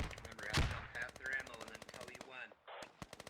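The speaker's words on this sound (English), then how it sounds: "AR fire everywhere." Assault rifle fire in the video game Squad comes as rapid, dense bursts of shots with a brief pause and more bursts after it, and voices are heard in places.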